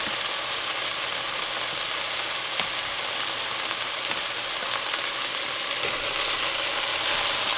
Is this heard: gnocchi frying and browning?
yes